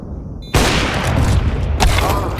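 Gunfire from a round of Counter-Strike on the Ancient map, a loud burst of shots cutting in abruptly after a quiet moment and running continuously, with a second sharp burst near the end.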